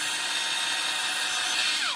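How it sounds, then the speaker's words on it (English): A power drill bores into a plastic action figure under the armpit, a steady close high-pitched whine with grinding bite, its pitch dropping slightly near the end as it punches through. "I want to drill a little bit under the armpit"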